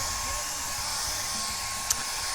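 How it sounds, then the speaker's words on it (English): A blow dryer runs steadily at close range, a loud continuous airy whoosh with a faint tonal whine, unbroken except for one tiny click near the end. "Blow dryer time, O'Reilly."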